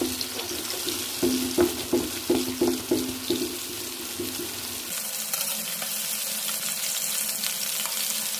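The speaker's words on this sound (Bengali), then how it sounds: "চারটা লেগ পিস আমার রেডি হয়ে গেছে, এখন এগুলোকে আমি ভেজে তুলে নেব।" Four chicken leg pieces fry in hot oil for a homemade chicken fry, a close, steady sizzle with a run of rhythmic bursts early on, then an even hiss to the end.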